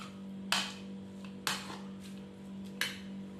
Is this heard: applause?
no